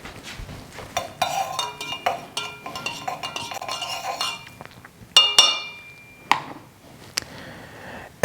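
A metal spoon clinks and scrapes against a coffee cup while stirring in cream and sugar, a busy run of rapid taps and rattles that slows into a few louder isolated clinks.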